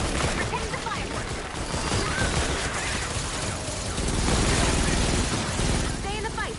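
Fireworks go off in a Fortnite: Save the World match after a long fuse, a loud, dense barrage of crackling blasts and bangs that runs without a break, with voices faintly mixed in.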